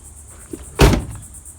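A single solid thud as a Ford F-150 truck's rear door is shut nearby, preceded by a faint click, then quiet.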